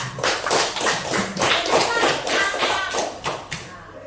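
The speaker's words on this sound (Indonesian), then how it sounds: "sekali tepuk tangan untuk mereka" Classroom clapping for students, a small group of hands producing a loose series of uneven claps and taps, fairly close, with pulses of sound rising and falling.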